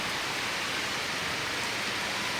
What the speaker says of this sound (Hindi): ओ हो, क्या बारिश शुरू हो गई।